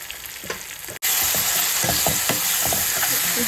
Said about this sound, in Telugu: ఇది కొంచెం బ్రౌన్ కలర్ వచ్చేదాకా ఫ్రై చేసుకుందాం ఇదిగోండి ఉల్లిపాయ మగ్గుతుంది కదా